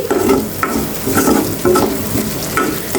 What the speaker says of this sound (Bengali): আমি চিকেন গাজর আর একটু কাঁচামরিচ সয়া সস গোলমরিচের গুঁড়ো আর লবণ দিয়ে খুব ভালো করে এটাকে ভেজে নিচ্ছি